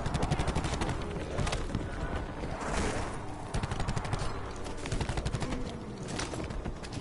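Rapid gunfire crackles through a video game battle, with dense bursts of repeated shots, a couple of heavier blasts mixed in, and no talking.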